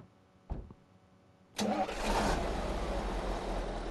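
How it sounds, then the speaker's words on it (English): A road maintenance vehicle's engine cranks over in Road Maintenance Simulator, a brief click and starter whirr, then catches and roars to a loud steady idle that holds to the end. "Oh, it sounds good. Sounds good, this engine."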